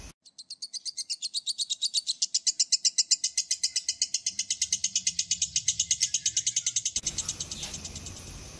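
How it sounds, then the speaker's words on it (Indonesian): Lovebird giving a long, rapid run of sharp chirps in a steady pulsing rhythm, building and holding loud and close before the trill breaks into rougher noise near the end. "kicauan ngekek lovebird selalu memikat untuk diikutkan lomba"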